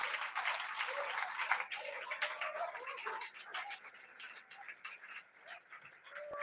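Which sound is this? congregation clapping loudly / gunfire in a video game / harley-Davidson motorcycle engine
congregation clapping loudly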